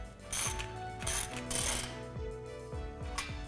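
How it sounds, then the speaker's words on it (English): Ratchet wrench tightening a band clamp on the rear exhaust section of a 2015-2019 Ford F-150 cat-back system, with repeated close, rhythmic clicking strokes in short bursts. "we're gonna go ahead and tighten down that rear section using a band clamp"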